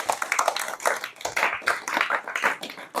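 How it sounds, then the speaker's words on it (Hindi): A classroom of students claps for exam results at a coaching class, a quick, lively burst of many hands packed close together and lasting a few seconds. "जोरदार तालियां इसके लिए"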